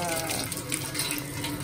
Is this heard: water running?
yes